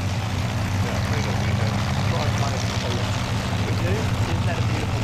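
Fokker triplane propeller aircraft flying at the Avalon Airshow, a steady droning engine and propeller hum filling the whole stretch, fairly loud and continuous, with crowd or commentary sounds mixed faintly beneath.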